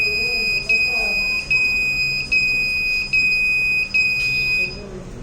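UWB radar motion detector buzzer sounding in steady repeated high-pitched beeps, about six pulses roughly every 0.8 seconds, loud and close, with faint background noise.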